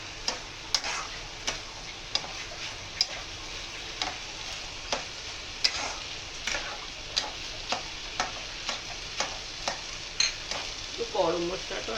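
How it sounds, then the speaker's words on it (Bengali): Rice frying in a pan with peas and cashews for paneer pulao, a steady sizzle under a regular rhythm of spatula stirs and scrapes, close and moderately loud, with no talking. "চালটাকে আমরা অল্প ভেজে নেবো, সব ভেজিটেবল মানে পিস আর কাজু বাদাম যেগুলো দেওয়া আছে সেগুলোর সাথে।"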